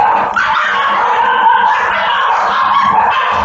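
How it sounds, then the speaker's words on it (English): Several dogs bark and yip continuously somewhere in the background, a steady loud cluster of overlapping barks with some whimpering mixed in, no talk over them. "Those are dogs."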